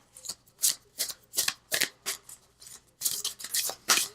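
A deck of Mother Wisdom oracle cards is shuffled by hand in repeated quick riffling bursts, each a crisp papery flutter, about eight rapid pulses close to the listener.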